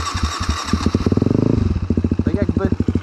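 A fuel-injected KTM 250 motorcycle whose engine cuts out and idles too low runs up close in uneven, chugging pulses that speed into a quick rev and then drop back to a rough, stuttering beat.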